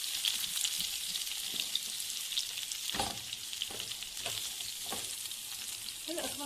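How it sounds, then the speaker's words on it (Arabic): Chopped onion frying in a spoonful of butter for chicken stroganoff gives a steady, close sizzle, broken by a few soft knocks as it is stirred in the pan. "هلا بعد ما حطينا الزبده بنحط البصل"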